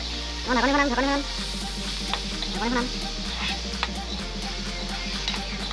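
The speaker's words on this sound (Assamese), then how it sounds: "এতিয়া বিলাহী আৰু মছলাৰ লগত ভালদৰে আমি ভাজি ল'ব লাগিব।" Chopped tomatoes fry with spices in a pan for a dry bamla fish dish, a steady soft sizzle with occasional scraping stirs, close, while a voice talks briefly at the start over a low constant hum.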